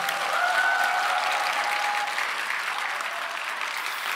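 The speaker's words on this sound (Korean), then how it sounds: "뜨거운 박수 한번 부탁드리겠습니다" A crowd at an anti-impeachment political rally in Gwangju breaks into loud, dense applause, a steady roar of many hands clapping together that holds for several seconds and eases slightly toward the end.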